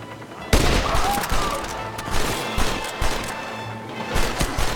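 A powerful gun firing in the video game Red Dead Redemption: a loud, booming blast opens, followed by several more heavy shots and crashing impacts spaced through the stretch over busy game ambience.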